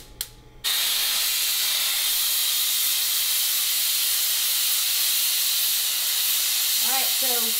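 An All American stovetop autoclave sterilizer venting steam at pressure, a loud steady hiss that starts abruptly after a brief click and continues unbroken, with a faint warbling tone near the end.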